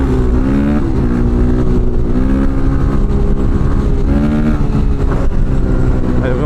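A 2015 Honda CRF450R motocross bike's 450 engine revs hard and loud out in the fields, its buzzing roar held steady with small rises and falls in pitch throughout.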